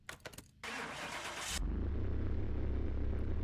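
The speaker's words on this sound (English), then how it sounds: "Start the engine." A Suzuki SX4 engine cranks briefly and starts in Car Mechanic Simulator 2, then settles into a loud, steady idle rumble that stays close and continuous to the end.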